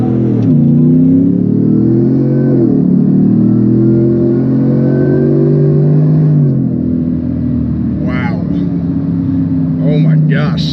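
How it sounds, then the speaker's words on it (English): A supercharged 650-horsepower two-wheel-drive Ford F-150 pickup launches from a complete stop, its engine roaring loud and close with rising pitch through the gears, while a person talks over it near the end. "we're going to take off from a complete stop and see what 650 horsepower feels like"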